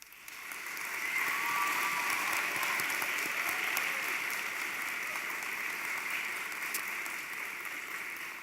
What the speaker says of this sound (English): I ask you to demonstrate your appreciation by applauding the faculty seated in the front rows